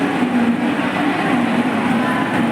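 A Mumbai local commuter train gives off a constant close-up rumble and low drone, with no breaks, for a few seconds.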